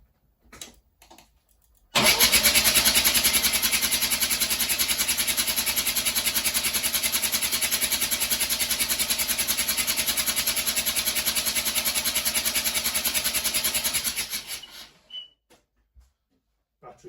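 A Mazda RX7 FC rotary engine cranks on the starter with its spark plugs and fuel pump relay removed, a loud, steady whirring spin lasting about twelve seconds that then winds down to silence, with no talking.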